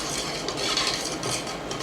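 Soaked purple rice being stirred with oil in a bowl, producing a busy, close, scraping and clinking texture of utensil against dish, continuous and fairly loud with no talk.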